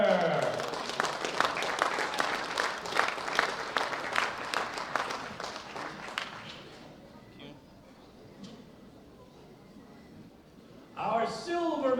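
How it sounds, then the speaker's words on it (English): An audience at a bench press championship medal ceremony applauds, the clapping dense and lively for several seconds before fading out; a voice starts speaking near the end. "A big round of applause for Mikhail Kucher."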